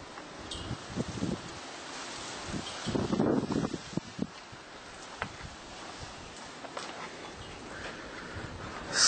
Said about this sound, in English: Wow, it really is pretty windy out here,